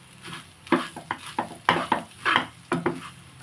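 Curry leaf rice is mixed with spice powder in a pan, rhythmic scraping strokes of a spoon repeating about every half second, close and clear with faint sizzling beneath.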